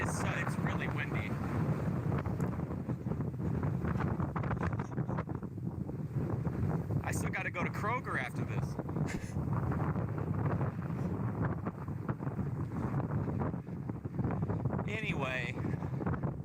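Strong wind buffeting the microphone in a constant roaring rumble while a person talks over it outdoors.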